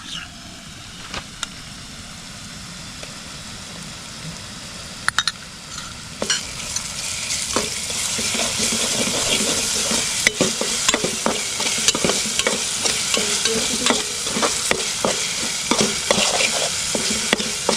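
Ginger-garlic paste roasting with tomatoes in a pan for kaleji masala, a steady close sizzle with frequent sharp clacks and scrapes of a spoon stirring, growing busier and louder partway through, no talking.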